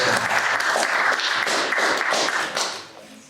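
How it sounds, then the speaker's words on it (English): Audience at an international film festival event claps in a brief burst of loud, close, slightly uneven applause that tails off after about three seconds. "Let's give an applause."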